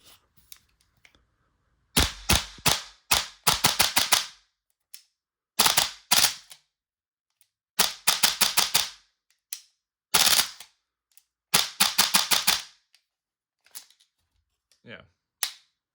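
A Toxicant Spear airsoft gun fires in sharp, snappy clusters of rapid shots, several quick bursts separated by pauses, with a few lone pops near the end, loud and close with no talk.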